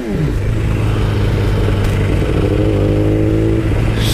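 A motorcycle engine revving hard at night, loud and close, the pitch climbing then sliding back down in a sustained roar with mechanical clatter underneath.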